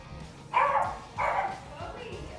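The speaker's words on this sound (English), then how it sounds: "And Bowie's going to keep barking." A dog indoors gives two loud, close woofs about half a second apart, then a softer third yip, with a quiet room hum underneath.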